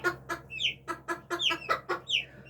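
Japanese Bantam chickens cluck in a quick run of about ten short calls, fairly close and clear, with a low steady hum beneath.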